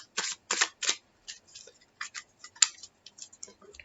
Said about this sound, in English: Give one final shuffle.